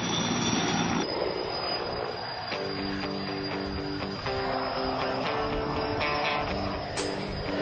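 An air crane helicopter flying overhead on a delivery job: a loud, steady engine and rotor roar with a droning, layered hum that stays close throughout, and no one speaking.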